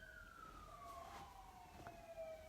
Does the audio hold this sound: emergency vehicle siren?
yes